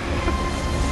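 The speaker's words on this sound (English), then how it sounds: "Isaac, look out, they boarded the train." A train in the sci-fi horror game Dead Space rumbles along with a steady, loud rolling clatter and hum, heard alone and up close for about a second.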